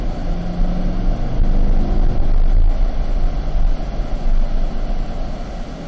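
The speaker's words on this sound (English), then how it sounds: "4th gear upshift" 2020 Corvette engine driving on a race track during a driving school session, a loud steady drone of engine and road noise with a brief dip as it upshifts into fourth gear.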